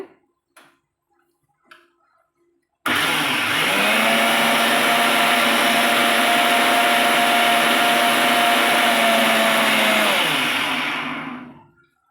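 A blender starts abruptly and grinds coconut with water steadily for about nine seconds, a loud whirring roar with a droning motor tone, then winds down. A few faint knocks come before it.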